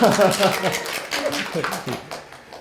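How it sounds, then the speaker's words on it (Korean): Brief applause from a forum audience on North Korean performing arts: scattered hand claps, loudest at the start and thinning out, heard over a nearby voice talking. "감사의 박수 한번 드릴까요?"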